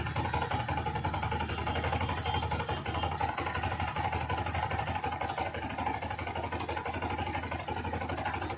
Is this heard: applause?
no